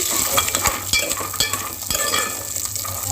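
Cashews and other dry fruits fry in a pan for a dry fruit laddu, a soft steady sizzle broken by loud scraping, stirring strokes of a spoon against the metal, close and busy with no talk.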